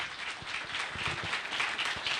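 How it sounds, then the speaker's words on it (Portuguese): Audience applause at a morning innovation event welcoming a professor to the stage; a soft, steady wash of many hands clapping at a distance, fairly faint and even throughout with no talk. "chamo o professor Dr. Mauro Larúcia, a quem eu peço uma salva de palmas."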